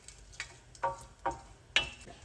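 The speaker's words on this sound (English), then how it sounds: "So the mustard seeds is frying." Mustard seeds fry in hot oil in a pan while making a panroll filling, faint steady sizzle broken by a few sharp popping crackles at irregular intervals, close and quiet.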